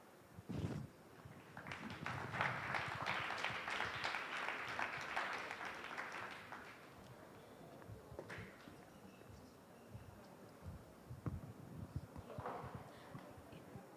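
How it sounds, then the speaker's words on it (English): A conference audience at a summit in Nairobi claps for several seconds, the applause swelling then fading, followed by scattered claps and a few voices. "A round of applause for them."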